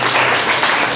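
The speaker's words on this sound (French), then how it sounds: "Vous applaudissez très fort" A public audience claps loudly at a book presentation and signing ceremony, a dense wash of applause filling the whole second at steady volume.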